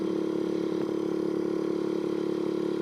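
A Honda Urban Express scooter engine holds a high, steady buzzing drone at around 10,000 rpm, loud and close, with a faint mechanical clatter running underneath and no voices.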